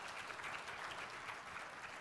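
An audience at a forum on fintech and cryptocurrency applauds to welcome panelists onto the stage, a dense, even wash of many hands clapping continuously and fairly distant throughout.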